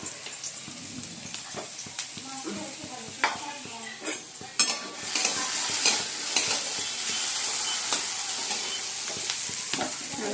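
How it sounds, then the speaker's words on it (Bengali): Cauliflower frying in oil in a wok, with a continuous close sizzle broken by repeated scraping and clinking strokes of a spatula against the metal as the pieces are stirred. "ফুলকপিগুলো দিয়ে দেবো।"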